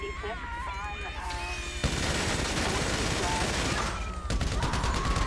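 Minigun fire in Grand Theft Auto V, a dense continuous rattle of rapid shots that holds steady across the whole stretch, mixed with game sounds and other effects.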